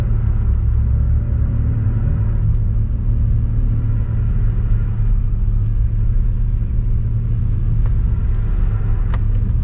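Car driving the Nürburgring Nordschleife, a steady loud engine rumble and road noise heard from inside the cabin, continuous throughout with faint clicks and no talking.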